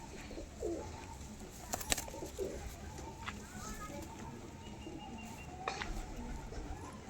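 Soft pigeon coos sound close by, with a few sharp clicks and rustles in a quiet room.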